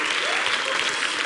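Audience applause for the Magadance ballet on a televised singing competition stage, a dense, continuous wash of clapping from a large crowd, loud and even throughout.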